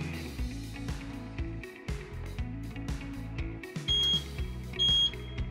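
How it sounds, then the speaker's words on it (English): Two short, high electronic beeps from a Rotary R138 wheel balancer sound about a second apart over a low mechanical hum and clatter. "move it inside until you get a beep and a solid H together"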